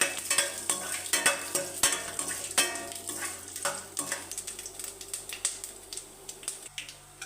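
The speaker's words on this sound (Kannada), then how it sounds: "ಇದು ಒಗ್ಗರಣೆ ಇದೆ." Cumin, urad and chana dal, peanuts and curry leaves tempering in hot oil for curry-leaf chitranna, a steady sizzle broken by frequent sharp pops and crackles and spoon clinks, close and fairly loud, with no talk.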